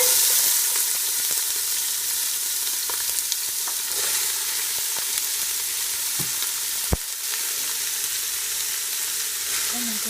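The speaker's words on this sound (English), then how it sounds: "You can test the oil to see if it's hot. It is. Start putting in your vegetables carefully." Vegetables fry in hot oil for chimichangas, a loud continuous sizzle and crackle filling the clip, with occasional faint clinks from stirring.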